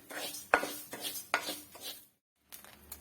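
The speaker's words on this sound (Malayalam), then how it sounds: "നമ്മുടെ അരിയെല്ലാം തേണ്ട നല്ലോണം പൊട്ടിത്തുടങ്ങി" Rice grains roasting in a hot pan for ari unda: a few sharp pops and clicks over utensil scraping, close by, with a short silent gap before the sizzle resumes.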